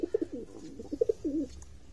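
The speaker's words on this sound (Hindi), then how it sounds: "ये कौन सी कबूतरी है" A pigeon coos softly in a short series of low, throaty pulses, faint and close, with a brief rolling coo near the end.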